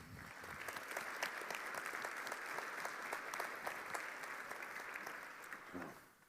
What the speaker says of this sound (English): Give a big round of applause for the VP Product Management at Ubisecure, Jellema.